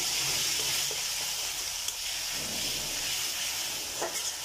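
Ginger garlic paste sizzles loudly in hot oil with bay leaves, a dense continuous hiss and spatter filling the whole moment, close and without speech.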